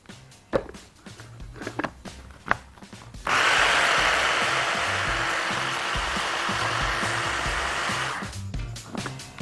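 A blender whips homemade cream cheese with pastrami and a little milk, starting with a few knocks and then running as a loud, steady whir for about five seconds before cutting off.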